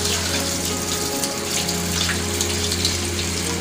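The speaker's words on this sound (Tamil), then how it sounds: "சிக்கன் வந்து வாஷ் பண்ணுறோம்" Raw chicken is washed under a running kitchen tap, with water gushing in a steady, continuous stream and a low pump-like hum beneath it, close and fairly loud with no talk.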